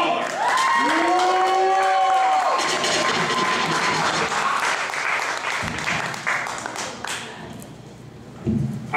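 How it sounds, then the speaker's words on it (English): An audience at a live stage show applauds and cheers as a performer is brought out, dense clapping with whoops over a sustained tone that fades out, then the crowd noise gradually thins. "you gotta give him some round of applause"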